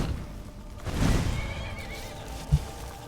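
A horse whinnies loudly at close range in Skyrim, a brief rising neigh followed by a soft thud and shuffling hooves, game ambience humming underneath.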